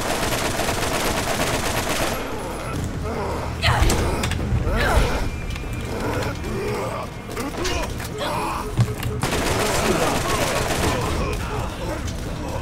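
Sustained gunfire in the shooter game Borderlands, with rapid, loud shots firing in bursts nearly throughout, mixed with game effects and voices talking.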